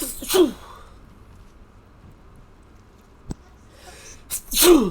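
A single sharp sneeze bursts out close up, followed a few seconds later by a second loud sneeze with a sharp intake of breath beforehand; someone speaks a brief word between them.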